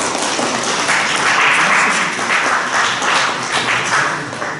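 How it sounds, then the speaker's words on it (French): A conference audience claps together, a dense and fairly loud burst of applause that swells and then thins slightly toward the end, with no clear voices over it. "On applaudit quand même."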